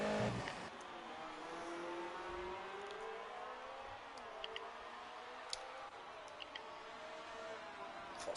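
A race car engine from a racing video game runs at high revs, droning steadily with rising and falling pitch and a few faint ticking clicks over it, with no talk.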